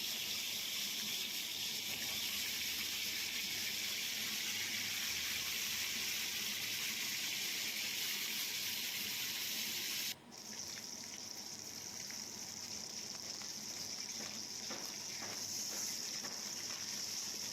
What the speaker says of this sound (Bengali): এবার কড়াইতে সর্ষের তেল দিয়ে এবার মাছটা ভেজে নিচ্ছি